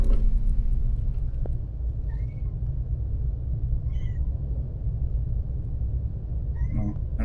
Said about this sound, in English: That is my cat. Right now she is stuck in the ceiling.